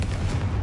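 The Confringo fire spell in Hogwarts Legacy detonates as a short, heavy boom, with a deep low-end thump that fills the whole brief moment.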